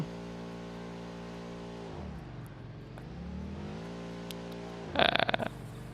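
A car engine in the video game Satisfactory hums steadily, dips and then climbs in pitch as it revs, ending in a short burst of clattering impact noise, with no voices.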